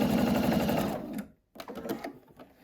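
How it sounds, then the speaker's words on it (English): A sewing machine stitches a seam across a quilt block for a rainbow sampler, a close, fast, even whirring run that stops, then a brief second burst of stitching after a short pause. "we will sew that seam across"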